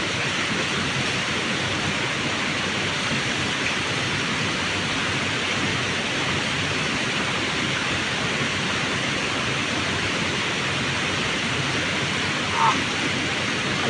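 Steady, dense rush of flowing water, loud and continuous throughout, like a nearby stream or small waterfall pouring without pause.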